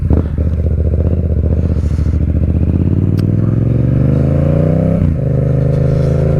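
A motorcycle engine roars loud and close on a ride, holding a steady throttle before the pitch climbs in a rising rev, then dips briefly and settles again.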